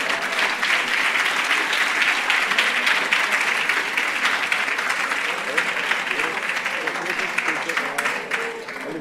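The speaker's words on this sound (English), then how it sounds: "I think we can give her another round of applause for that" A large audience at a memorial lecture gives a long, steady round of applause, dense and even throughout with a faint murmur of voices beneath.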